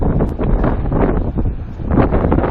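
Wind gusts across a cold winter beach on a morning around 50 degrees, roaring steadily into the microphone as broadband rushing and buffeting with no voices.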